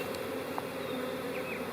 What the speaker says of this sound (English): I don't know why this bee is so angry at me